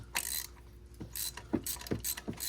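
Spark plug removal on a VW Beetle using a ratchet with an extension and a 5/8 socket: several short bursts of ratchet clicking alternate with quiet pauses, close and with no one talking.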